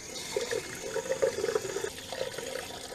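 Water runs and gurgles back into a Class B RV's fresh water plumbing, a soft, continuous splashing flow with a few bubbling bursts, faint and close.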